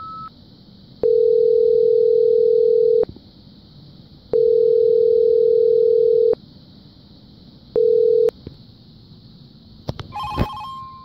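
Steady telephone tone heard alone, broken into three long beeps, with a faint high background hum and a brief click and rattle near the end.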